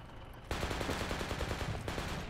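Rapid machine gun fire in the tactical shooter Project Reality, an enemy gunner shooting in steady bursts of close, loud shots from about half a second onward, with a brief pause near the end.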